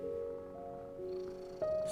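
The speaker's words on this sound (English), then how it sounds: "Yep, that is the cat that you can hear purring." Cat purring in a quiet room as a soft, steady rumble with a few faint tonal hums over it, close and continuous with no talking.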